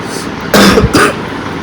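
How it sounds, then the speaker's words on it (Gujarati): Two harsh, close coughs come in quick succession from a person with a heavy chest cold, loud against quiet background noise. "ઉધરસ બહુ થઈ ગયો કપ થઈ ગયો જામી ગયો"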